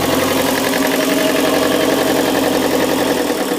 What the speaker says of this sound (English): we'll take it down to idle.